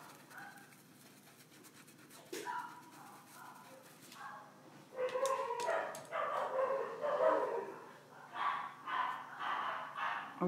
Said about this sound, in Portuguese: Olha os cachorrinhos participando.